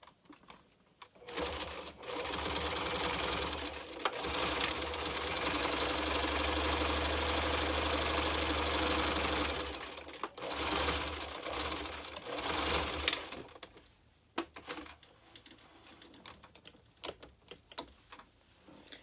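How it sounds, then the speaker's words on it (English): A sewing machine stitches a ruffle on bloomer pant legs for a clown lolita outfit, a fast close mechanical whir running in one long burst, then short stop-start bursts and scattered clicks as it winds down. "you'll want to sew up this part of the ruffle of the bloomer of the pant legs"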